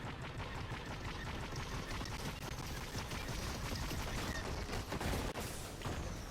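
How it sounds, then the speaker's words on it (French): Gunfire in a video game rings out amid a constant dense wash of noise, with scattered sharp cracks and one louder burst near the end, all continuous and busy with no talk. "y a un mec qui me tire dessus"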